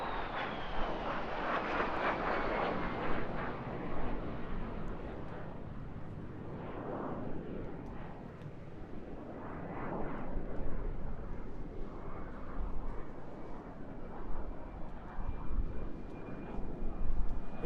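A historic RAF jet at the Eastbourne airshow roars past, a broad sustained engine rumble that rises and swells over many seconds, with a faint commentary voice in the background.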